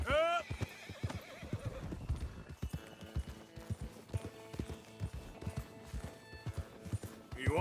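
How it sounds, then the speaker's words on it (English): Horses in Red Dead Redemption 2 trot with clip-clopping hooves and let out high whinnies and neighs, close and lively, while a voice calls to them. "Come on, horses."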